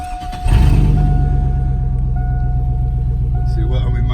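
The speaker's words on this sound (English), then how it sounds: "Let's fire up the old Chevy and take a little ride." An old Chevy truck engine cranks and catches, then settles into a loud, steady low rumbling idle close by.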